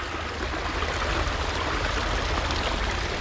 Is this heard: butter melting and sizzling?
no